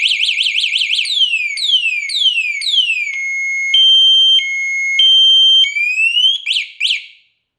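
A piercing electronic motorcycle security alarm, an E-vader with keyless start, cycles through rapid chirps, falling sweeps and steady high tones, very loud and close, then cuts off abruptly.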